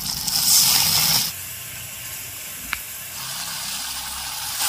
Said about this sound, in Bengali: মশলার বাটিটা ধুয়ে একটু জল দেব।